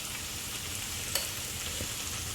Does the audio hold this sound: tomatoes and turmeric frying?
yes